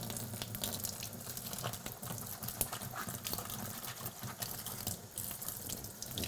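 Running tap water rinses the filter from an LG LHD45ELY6 dehumidifier at a sink, a steady close gush with the stream shifting as the filter is turned, no talking.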